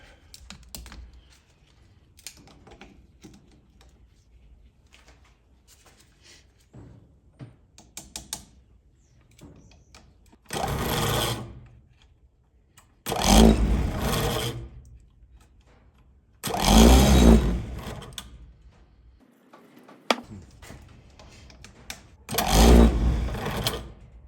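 An old starter motor from an Allis Chalmers WD45 tractor spins freely on its own in four or five short, loud whirring bursts, separated by quiet gaps with faint handling noises.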